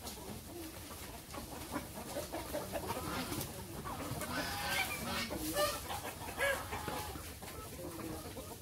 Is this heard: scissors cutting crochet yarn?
no